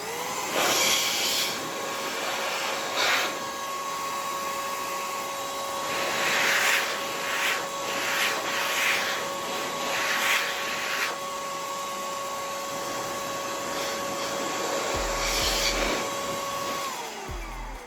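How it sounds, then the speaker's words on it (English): An electric air duster blasts dust off a gaming PC with a loud, continuous high whine and rushing air that holds steady throughout, with bursts of gusting as the stream hits the components. "here is my electric air duster. Let's get this bad boy turned on and get to work on cleaning this off"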